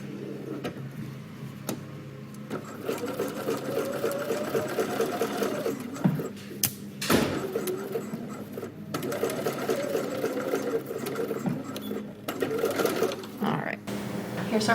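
A sewing machine stitches a placket on a garment in steady runs of rapid mechanical chatter, stopping briefly now and then, close and moderately loud with soft voice sounds in places.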